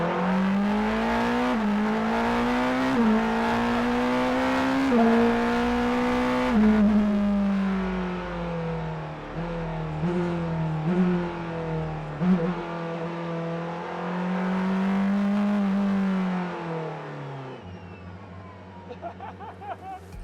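Porsche 963 RSP, a street-legal Le Mans hypercar, accelerating hard up close: a loud engine note climbs in pitch through several gear changes, then eases into a quieter, lower hum near the end.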